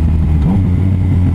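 A motorcycle with a shifter revs while being ridden, its engine rising and falling through quick gear changes, loud and close with steady drone throughout.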